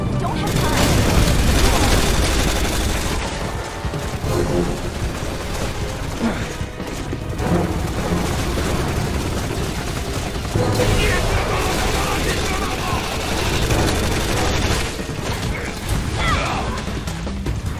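Loud, continuous booms and crashing blasts from bombing in a Resident Evil 6 cutscene, rolling one into another with mechanical clatter for the whole stretch, with no pauses.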